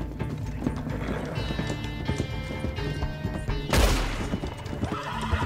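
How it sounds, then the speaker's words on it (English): Horse hooves clip-clopping and a whinny in the game Red Dead Online, set against a busy game soundscape with a sudden loud crash partway through. "I didn't mean to shoot your horse."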